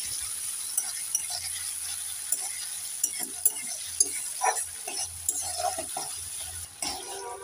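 Grated ginger is stirred into tomato frying in a pan for a rohu fish curry, soft sizzling under intermittent spoon scrapes and taps on the pan, close and moderately quiet.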